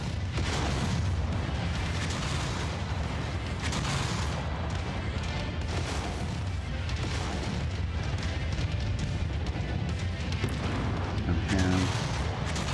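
Mechs in MechWarrior 5, running the MechCommander Mercenaries mod, fire their weapons into the ground. The result is a dense, continuous barrage of booming impacts and rumbling blasts, loud and sustained throughout with no pauses.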